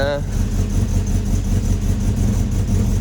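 A 1996 Rover Mini Cooper MPI engine idles steadily at close range, a continuous low throbbing rumble that holds even and loud for the whole stretch, with no talking over it.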